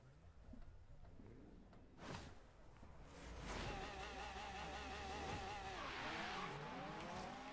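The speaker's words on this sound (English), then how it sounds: "It's going to bog down when it first takes off, just kind of, and then it starts to move and starts to spin the wheels." A Ferrari in Forza Horizon 3 bogs down with a low, strained engine note, then revs climb as the wheels spin and squeal, and the car pulls away loudly.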